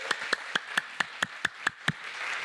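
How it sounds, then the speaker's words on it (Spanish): A small church congregation claps in a steady, even rhythm, about nine sharp claps in a row, fairly quiet and spaced as if keeping time during a Spanish-language worship service. "Dele un aplauso al Señor"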